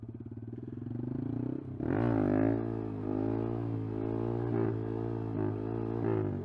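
Honda Grom motorcycle engine held steady during a wheelie at roughly 15 to 17 mph, a loud, close, continuous buzzing drone with a brief dip, then a strong throttle surge and small wavering pulses as it holds the balance point.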